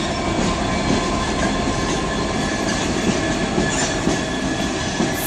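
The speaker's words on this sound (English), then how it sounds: "I think those locos might be terminating here for a bit, and then it'll go off." Locomotives of a train pass through Bristol Parkway station on the Great Western Main Line, a steady loud rumble of wheels and engines with faint rail clatter running continuously throughout.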